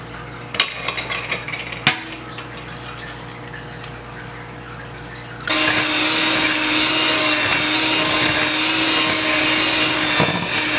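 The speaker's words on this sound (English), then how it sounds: "So I'm gonna go ahead and I'm gonna break my eggs." Eggs cracked into sugar for a Bajan-style sweet potato pie filling: a few sharp clicks and taps at first, then a loud, steady whirring mix that runs without a break through the second half.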